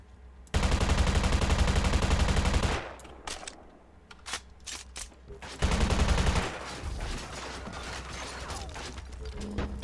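Automated turret gunfire in the shooter Eximius: two long, loud, rapid machine-gun bursts separated by scattered single shots and mechanical clatter, with a steady low hum underneath throughout.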